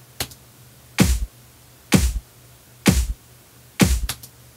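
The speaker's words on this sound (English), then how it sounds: "looks like we've got 4 snares and 1 clap layered" A layered snare built from four snares and a clap in a Logic beat, struck four times in a steady pulse about a second apart, each hit a sharp bright crack with a short tail, plus a faint low hum beneath.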